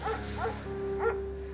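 A shepherd dog in the video game Firewatch gives a few short yips and barks at medium distance over a steady low background hum, with one tone held beneath them.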